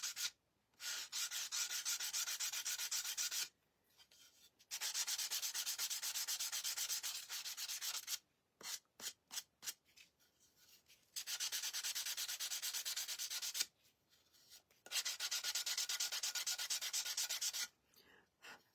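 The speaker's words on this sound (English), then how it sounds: "I think we may even sand it back a little, just a little." Hand sanding of painted edges to distress a furniture project, with repeated bursts of close, gritty rubbing separated by short pauses and a few quick strokes in between.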